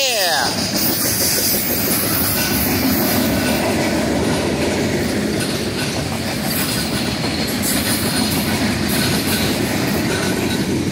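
A BNSF passenger special led by Warbonnet locomotive 759 rolls past at close range, a loud continuous rumble with rhythmic clickety-clack of wheels over rail joints and faint wheel squeal.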